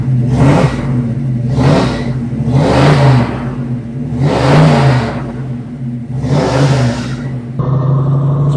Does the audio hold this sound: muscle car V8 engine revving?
yes